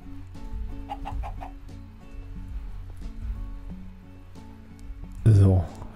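Chickens cluck in Minecraft in a series of short, clipped clucks over a quiet game background, with someone talking at times. A loud burst comes near the end.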